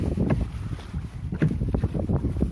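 Strong, gusty wind buffets a fishing boat at sea during a night trip, a loud, rough rush of air over the microphone with water sounds beneath and no clear speech.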